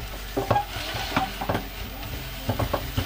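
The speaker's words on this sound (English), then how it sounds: "Give it a nice stir." Prawns, mushrooms, onions and garlic frying in a pan aboard a narrowboat, stirred in a few scraping bursts over a steady sizzle, close and fairly loud, with no talking.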